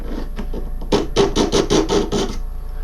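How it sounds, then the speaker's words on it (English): An AnySharp knife sharpener with a knife blade pulled through it, making about six evenly spaced rasping strokes close up after a few lighter scrapes, with no talking. "to sharpen with it, you simply pull the blade through the gap there"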